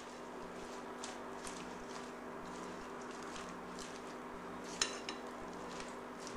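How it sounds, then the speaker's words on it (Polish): Homemade salad with herb cheese being mixed in a bowl, soft scraping and clinking of utensil against the dish, quiet and intermittent with one sharper clink near the end. "mieszamy"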